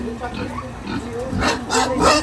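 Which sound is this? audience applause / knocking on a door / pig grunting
pig grunting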